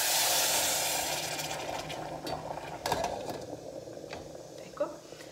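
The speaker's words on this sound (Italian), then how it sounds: "E adesso gli aggiungo l'acqua." Water poured into rice toasting over low heat in a hot pan sets off a loud, bright sizzling hiss that fades steadily, with scattered clinks of cookware and soft talk afterward.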